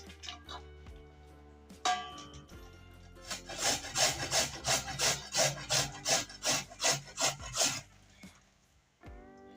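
Carrots are grated by hand for carrot halwa, a rapid series of rhythmic rasping scrapes against the grater after a few scattered clatters, close and fairly quiet.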